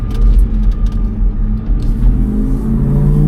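A 2003 Mercury Marauder accelerates hard, its engine rumbling deep and rising in pitch as the revs climb. The sound is loud and close, heard from inside the car with no voices.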